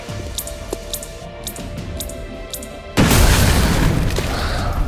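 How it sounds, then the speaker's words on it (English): A grenade detonates in the XCOM: Chimera Squad video game on Impossible and Hardcore difficulty. A sudden loud boom cuts in after quieter game ambience with faint clicks, and it fades into a long rumbling roar that carries on to the end. "Grenade out!"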